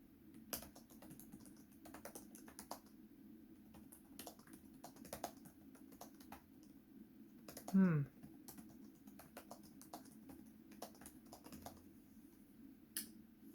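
Rapid clicking of keys on a 2020 ThinkPad E15 Gen 2 laptop, irregular bursts of typing with brief pauses, close and fairly quiet, with a short vocal sound partway through.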